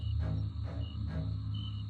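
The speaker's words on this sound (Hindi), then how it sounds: "केवल झींगुरों की आवाज उस सन्नाटे को तोड़ रही थी।" Crickets chirp on a deep, quiet night, with thin repeated trills over a low, steady background hum.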